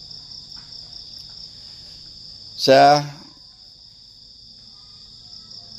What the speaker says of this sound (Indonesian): pada pagi hari ini bersama suara jangkrik